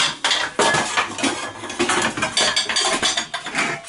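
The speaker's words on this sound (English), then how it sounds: "Fumbles for a pot." Metal pots and pans clatter and clank in a home kitchen as someone rummages for a pot while cooking sausages in sauce, a dense run of close, loud knocks and scrapes filling the whole moment.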